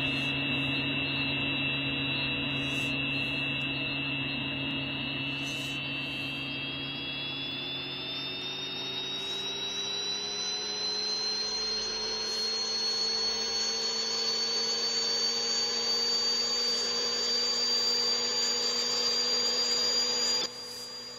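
A Gazelle SA341 helicopter turbine starts up in X-Plane 12, a steady loud whine whose pitch climbs gradually as the engine spools up, with no talk over it.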